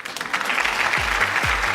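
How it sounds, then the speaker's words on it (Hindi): An audience at a Bollywood Mr. & Miss India Season 3 event applauds for a contestant, a brief, dense burst of clapping close up lasting under two seconds. "जोरदार तालियां सना के लिए।"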